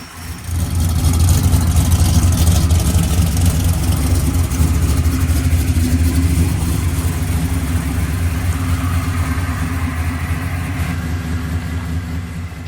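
Chevrolet Malibu fitted with two nitrous kits, its engine running loud and close in a steady, rumbling idle with slight rises in revs throughout.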